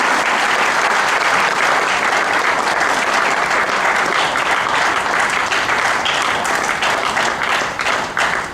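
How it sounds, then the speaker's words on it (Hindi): Sustained, loud audience applause at an award ceremony honouring journalists, with steady dense clapping filling the whole stretch and no talk over it. "आप भी तालियों के साथ शरीक हो लें।"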